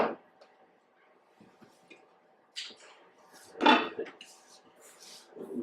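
A ceramic slow cooker pot for a pot roast clunks into its base with a couple of soft knocks and a louder thud midway, quiet handling noises around it in a kitchen.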